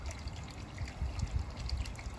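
Water trickles and splashes softly and continuously into a koi pond during a partial water change, faint and unbroken, with no talking.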